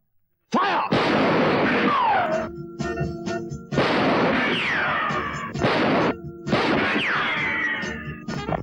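Gunfire in a Hindi movie scene comes as three loud, sustained bursts of shots with whining ricochet-like tones, close and dominant.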